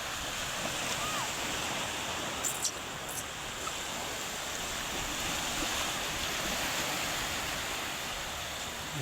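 Steady broadband wash of sea waves and surf at a morning beach, continuous and fairly even with gentle swells, a couple of faint high clicks midway, no voices.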